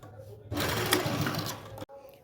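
Sewing machine stitching the hem of a salwar in a tailoring boutique, a steady close whirring run that starts about half a second in and stops abruptly near the end, with quiet room tone on either side.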